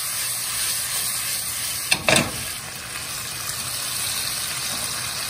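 Eggplant and onions go into a hot pan, giving a steady, close sizzle with a short louder crackle burst as the vegetables hit the oil, then an even hiss without talking.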